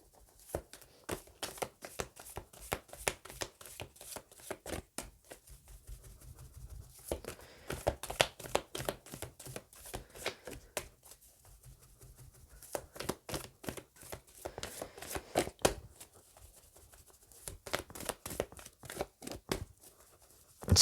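Tarot cards are shuffled by hand in quiet, rapid bursts of flicking and riffling, with a few short pauses between rounds.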